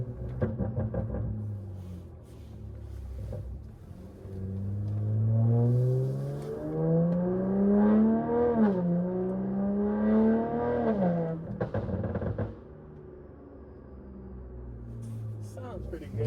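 Catless, straight-piped exhaust on a 2024 BMW G30 540i, tuned with added burbles. The engine revs loudly and climbs steadily in pitch over several seconds, then drops back with popping crackles before settling to idle.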